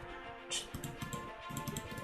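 Crisp mouse clicks come in a quick irregular run while Return of the Obra Dinn is played on a computer, with one brighter tap early on, all close and fairly quiet.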